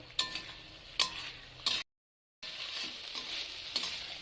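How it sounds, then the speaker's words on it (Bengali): Tomato and spices sauté in a pan with a soft, faint sizzle under regular sharp spoon taps, broken by a brief total silence before the quiet frying resumes. "এবার টমেটোটা দিয়েও ভালোভাবে কষিয়ে নেব"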